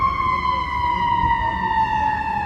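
Ambulance number 42 sounds its siren at Chicago and Michigan Avenue in Chicago: a loud, steady wailing tone that slowly falls in pitch, close by over a bed of street noise.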